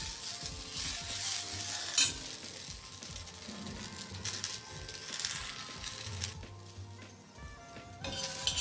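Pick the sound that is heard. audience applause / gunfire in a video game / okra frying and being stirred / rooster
okra frying and being stirred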